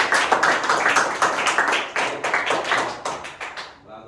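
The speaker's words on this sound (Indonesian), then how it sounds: "Tepuk tangan untuk kelompok 3." A school class claps for group 3 after a presentation, quick rhythmic close-up hand claps from a modest group, ending with a few scattered claps.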